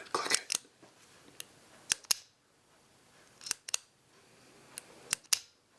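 Clicks of a metal Zebra X701 pen, a crisp run of sharp mechanical clicks in small clusters with short quiet gaps, close and clear with no talking.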